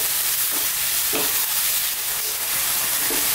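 Tomatoes cook in a pan over medium heat for meatloaf, giving a steady, close sizzle with a few soft stirring scrapes.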